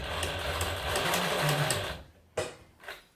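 A Singer 107W1 sewing machine driven by a servo motor runs steadily and loudly for about two seconds, then stops, followed by a couple of short mechanical clunks.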